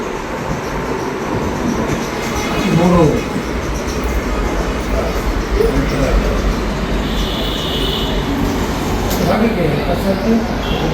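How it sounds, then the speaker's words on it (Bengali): A stationary train rumbles steadily nearby with low mechanical noise and faint rail clatter throughout, with voices talking over it. "ওই যে ট্রেন থেমে রয়েছে ট্রেন যাবো একটু পরেই এখানে ট্রেন যায়"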